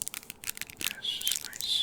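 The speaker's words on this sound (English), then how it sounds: "really nice crinkling sounds" Plastic packaging of a Yu-Gi-Oh Dark World structure deck crinkles and crackles up close, in quick irregular bursts of soft rustling over about two seconds with no talking.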